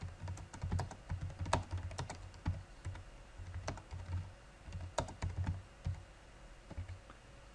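Someone types steadily on a computer keyboard nearby, a quick run of soft, irregular key clicks with occasional louder strokes, quiet and alone with no talking.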